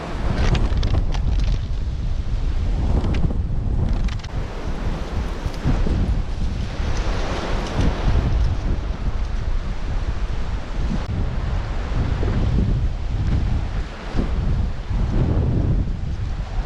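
Strong wind blows steadily outdoors at a bush campsite by the Murray River, roaring loudly across the microphone in continuous gusts with no voices.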